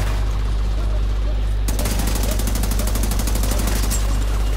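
The Division 2 gunfire: a steady low rumble gives way suddenly to a rapid, evenly spaced automatic burst, loud and sustained, with a voice talking over it.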